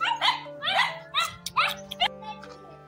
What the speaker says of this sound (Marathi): हे आमचे कुत्रे